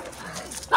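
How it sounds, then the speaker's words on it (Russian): A small dog gives a short, fairly close bark near the end of a brief moment outdoors on a walk, rising above quiet background noise. "Собачки маленькие."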